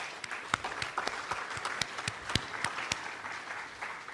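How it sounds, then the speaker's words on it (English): Applause for a management team at an e-commerce summit, scattered, fairly sparse claps from a modest audience, moderately loud and without talk. "I'm going to just ask everybody to just give a round of applause to the management team of 876 Get."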